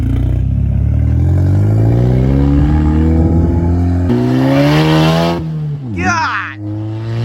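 A 2017 VW MK7 GTI with a Black Forest Industries dogbone mount insert accelerates hard, its engine note climbing steadily through the rev range, then a gear shift and a sharp turbo whoosh near the end, heard loud from inside the cabin.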